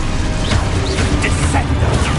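Confringo, an explosive fire spell in Hogwarts Legacy, goes off in a dense game scene: a sharp burst and crackle over continuous rumbling clatter and mechanical combat noise, loud throughout.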